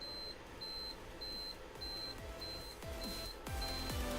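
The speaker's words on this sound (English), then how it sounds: "It's beeping at me." An electronic power supply under test emits a steady series of short, high-pitched beeps at a regular rhythm, signalling over-temperature, over a low, noisy hum with faint clicks.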